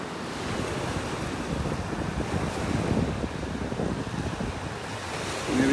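Surf rolling onto a beach in North Naples, Florida, on a morning walk, a steady wash of waves mixed with wind buffeting the microphone, continuous and moderately loud.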